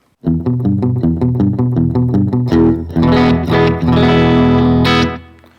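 Distorted electric guitar through a Line 6 POD HD500X plays a rapid, repeated riff followed by sustained chords, with delay repeats trailing behind the notes and fading at the end.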